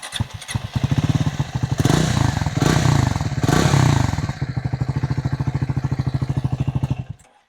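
A Triumph Scrambler 400X motorcycle engine cranks and fires, revs up in a few loud bursts, then settles into a steady, close, thumping single-cylinder idle before cutting off.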